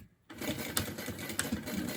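Sewing machine running in a short burst of stitching and back stitches through a bag, starting after a brief silence and whirring steadily at moderate close range.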